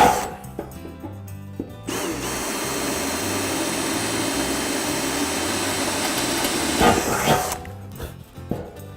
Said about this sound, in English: make sure you drill and mark before you paint or powder coat your inner fender